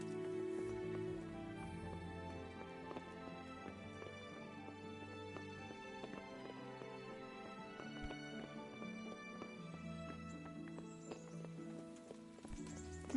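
Horse hooves clip-clop in a steady, even rhythm as a rider travels in the video game Kingdom Come: Deliverance, fairly quiet and continuous, with soft ambient game sounds around it.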